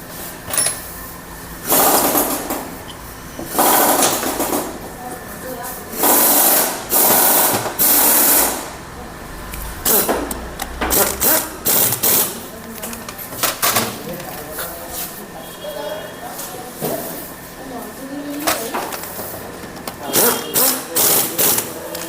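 Black 8 mm timing chain sprocket bolts on a Honda Shine 125 engine are tightened with repeated close, rhythmic ratcheting bursts and metallic clicks, with short pauses between strokes.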